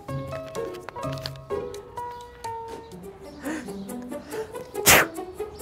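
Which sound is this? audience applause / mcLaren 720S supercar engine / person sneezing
person sneezing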